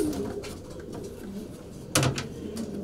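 Racing pigeons cooing inside a loft, low throaty coos repeating close by over a steady room hum, with a brief sharp flutter or knock partway through.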